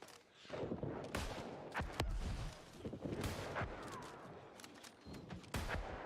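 Fire bullet shots in Elder Scrolls Online PvP battleground, a few sharp bursts spaced irregularly amid busy game noise, no talk.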